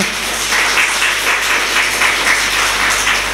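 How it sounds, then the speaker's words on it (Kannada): Loud, sustained applause from an audience at a spoken talk, a dense steady wash of clapping that holds for a few seconds with no voices over it. "ಜೋರಾಗಿ ಚಪ್ಪಾಳೆ"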